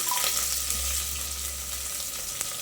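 Onions frying for vegetable rice give a gentle, continuous sizzle with a low hum underneath and a couple of light clicks, faint and short, with nobody talking.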